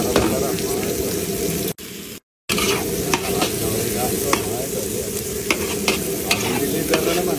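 Garlic and onion with a little ginger sauté in a hot pan, giving a loud, steady sizzle with stirring scrapes and a brief cut-out partway through.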